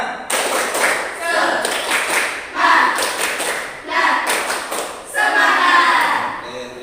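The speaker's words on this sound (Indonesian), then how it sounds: "Semuanya tepuk semangat." A classroom of students stands and performs a rhythmic group clapping chant, bursts of claps and slaps in repeated phrases with voices chanting along, fairly loud and close.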